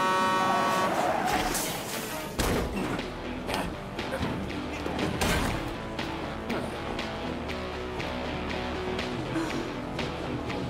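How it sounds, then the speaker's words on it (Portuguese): Noisy truck rumbling and honking in front of a hot dog restaurant in an animated film, loud bursts and clatter over a steady engine drone, with music and voices mixed in. "Podem tirar o caminhão da frente do meu restaurante? É barulhento, está perturbando meus clientes"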